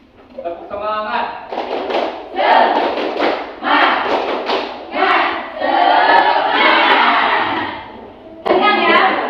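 A school class stands and performs a spirit clap in an Indonesian classroom lesson: bursts of loud rhythmic clapping and thumping mixed with energetic group shouting and children's voices, in several short bouts.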